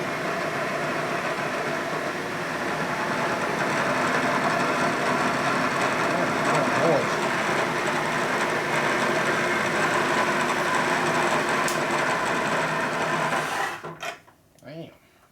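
A 1941 Harley-Davidson WLD 45 flathead motorcycle engine, stroked to 56 cubic inches, runs steadily at a fast idle with a dense mechanical clatter, then cuts off abruptly near the end, leaving a few faint knocks.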